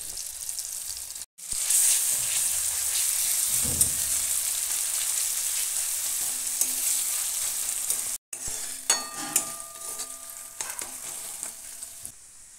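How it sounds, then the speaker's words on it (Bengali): Onion paste and garlic paste, about five cloves' worth, sizzle steadily in hot oil for Kashmiri alur dom, with a loud continuous hiss, a couple of brief dropouts, and occasional spoon scrapes and stirring clatter. "তেলে দিচ্ছি একটা পেঁয়াজ বাটা, দিলাম 5 কোয়া মতো রসুন বাটা"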